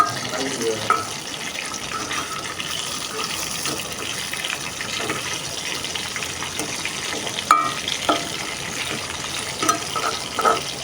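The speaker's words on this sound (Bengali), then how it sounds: "এবার আমি ভালো করে লাল লাল করে মাছের মাথাগুলো ভেজে নেব" Rohu fish heads fry in a pan with a steady, close, broadband sizzle and hiss, broken by a few light clicks and scrapes from a spatula.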